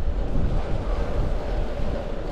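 Light wind buffets the microphone as a bicycle rolls along a calm, sunny country road, producing a steady low rumble with no other distinct sounds.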